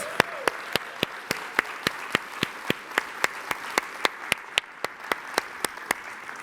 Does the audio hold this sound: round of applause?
yes